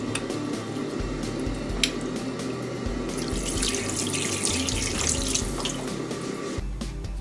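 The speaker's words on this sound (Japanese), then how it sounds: "このキスお腹が小さいんで洗いづらいんですけど、なるべくきれいに洗うようにしてください。" Tap water runs steadily into a sink while a small sand borer fish is rinsed clean under it. Faint squishes and splashes of handling sound close by throughout.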